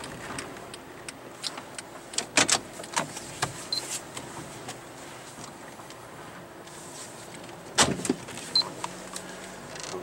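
A car drives slowly on a wet, foggy day through the dying coal camp of Bonny Blue in Lee County, Virginia, turning around, with a steady low engine and road hum broken by scattered clicks and bumps from inside the cabin.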